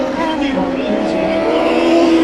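Race cars in heat races on the Kern County Raceway dirt track, a loud continuous engine roar with rising revving pitch as cars drive past, carried under an announcer's voice.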